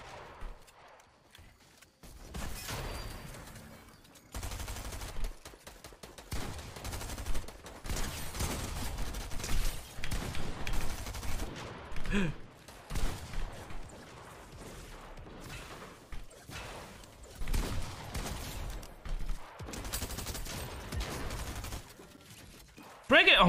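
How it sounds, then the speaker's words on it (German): Bursts of gunfire in a late-game arena match of a video game come in dense, uneven volleys and crackling rattles that stop and start. Excited German speech runs over the shooting. "Wieso schießt er denn?"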